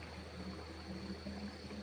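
Faint, steady wash of a river flowing, a soft continuous rush of moving water with no voices.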